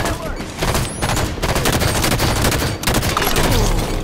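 Dense, loud gunfire from the video game Halo 5 runs almost continuously in rapid automatic bursts, with a brief pause near the end before the shooting resumes.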